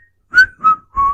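A person whistles three clear, sustained notes in quick succession, the opening of a tune. The whistling is close and alone.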